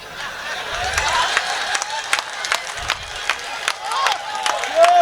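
An audience at a Hindi comedy poetry gathering claps along, with sharp, scattered claps over crowd noise and voices, picking up toward the end.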